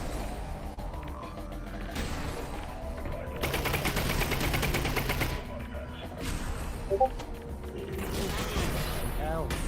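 Rapid video game gunfire rattles in bursts, with a sustained stretch of automatic shooting and scattered mechanical clanks, while a voice talks intermittently over it.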